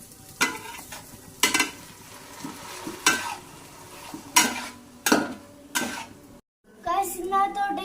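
Vegetables, egg and chicken being stir-fried with red chilli sauce and soy sauce for fried rice, loud sizzling bursts with repeated spatula scrapes against the pan, a voice speaking near the end.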